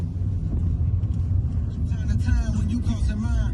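Low, steady engine rumble from a Seat Ibiza on the move, heard from inside the car, with a voice speaking over it in the second half.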